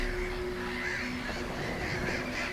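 Birds on an island shore in a dinosaur survival game call faintly and repeatedly over a steady ambient hum, soft cawing and honking notes spread across the scene.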